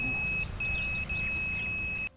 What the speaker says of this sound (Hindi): जैसे ही कोई करीब आता है, चिप के साथ जुड़ा अलार्म अपने आप बजने लगता है